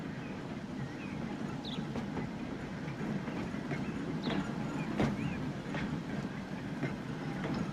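Trams run through a town in the game Transport Fever with a continuous rolling rumble, light rhythmic clatter of wheels on rail joints and occasional squeaks. It sounds fairly faint, with no talk.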